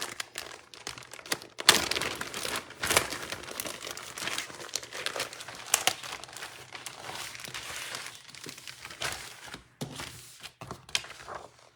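Paper from a craft paper collection being handled and crinkled, intermittent rustling and crackling with sharp crinkles and soft thumps throughout, close and fairly quiet.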